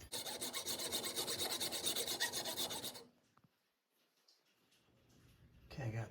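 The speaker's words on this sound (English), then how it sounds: "I'm going to hacksaw just to the inside of that" Hacksaw cutting a slot in a repurposed pick handle for a composite throwing tomahawk: a close, loud, rhythmic rasping of quick back-and-forth strokes for three seconds, then quiet, with another stroke starting at the end.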